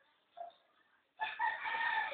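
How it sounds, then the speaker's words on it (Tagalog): Backyard chickens around a home, with a brief faint call early on, then a louder, sustained burst of crowing and clucking that fills the rest of the clip nearby. "Kakatuwa yung mga manok ngayon."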